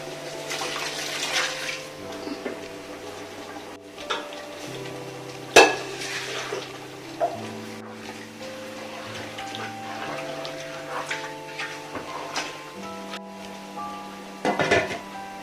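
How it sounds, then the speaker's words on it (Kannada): Mutton dropped into a cooking pot for homemade biryani, with clattering pot and utensil knocks, a sharp clank near the middle and stirring scrapes toward the end, all over a steady background of sustained music tones. "ನೋಡಿ, ಈಗ ಮಟನ್ನ ಇದರಲ್ಲಿ ಹಾಕ್ತಾ ಇದ್ದೀನಿ"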